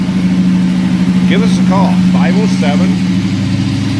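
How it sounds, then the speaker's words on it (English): A 1972 Oldsmobile Cutlass S with an LS V8 swap sits at a steady, loud high idle after a cold start, its even rumble running throughout while someone speaks over it. "It's going to be at high idle since I started it cold there, but it'll give you an idea what it sounds like."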